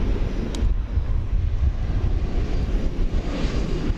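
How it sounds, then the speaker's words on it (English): An American Airlines Airbus A321 arrives at DFW Airport at night, a steady broad jet roar rumbling low and constant throughout, fairly loud with wind buffeting the microphone. "Check out an American Airbus A321 coming in from Salt Lake City"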